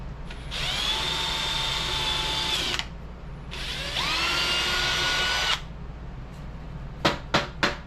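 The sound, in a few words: drilling hole in metal for alternator mount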